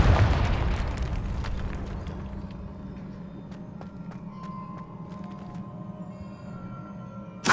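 A Confringo spell explosion in the video game Hogwarts Legacy, with a loud booming blast at the start that fades into a long rumbling decay, and another burst right at the end.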